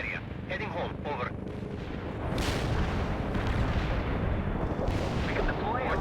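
Artillery barrage in the World in Conflict war game: a sustained heavy rumble of shelling fills the clip, swelling louder midway with sharp bursts, while radio-style voices speak over it at the start and end.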